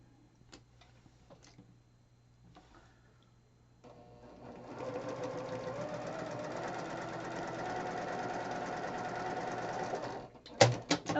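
Sewing machine chain piecing quilt blocks starts up after a few quiet seconds and runs in a steady, close whir for about six seconds, then stops with a couple of sharp clunks.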